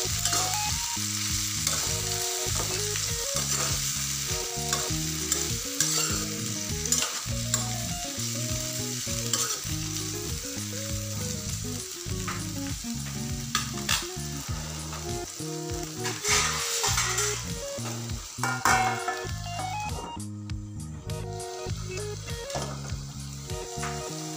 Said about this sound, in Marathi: कापलेले कारल्याचे काप, तेलामध्ये थोडंसं हे वाफवून घेऊयात।